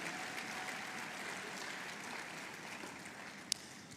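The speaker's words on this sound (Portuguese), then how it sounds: "Aplauda Jesus pela palavra de Deus." A congregation at a church service applauds, a steady dense wash of clapping that holds evenly throughout, with one sharp click near the end.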